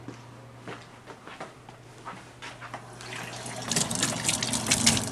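Tap water runs into a sink while a part of an espresso machine is rinsed out. The flow starts softly and then grows into a steady, louder splashing near the end.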